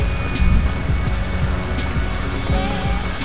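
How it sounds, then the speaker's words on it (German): Cars arrive in GTA Online with a steady engine drone and passing rumbles, punctuated by a few low thumps and a faint rising whine, moderately loud and without speech. "Auf jeden Fall kommen jetzt hier irgendwelche Autos an."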